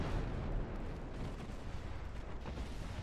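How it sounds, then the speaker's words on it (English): A warship's ammunition magazine detonates in the naval battle game Ultimate Admiral: Dreadnoughts, heard as a dense, rumbling explosive roar that carries on steadily, fairly faint and with no voices. "Ammo detonation."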